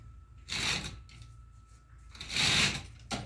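A homemade rope pulley hoisting a skinned otter makes two bursts of creaking, rubbing mechanical noise, each lasting about a second, close by, with a short clack at the end.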